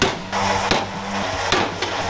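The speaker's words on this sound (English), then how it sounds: "I'm using the dolly as pressure and pushing and hammering" A hammer and dolly straightening car body sheet metal: sharp metallic blows land at a slow, uneven pace, about three clear strikes, over a steady loud shop hum and background noise.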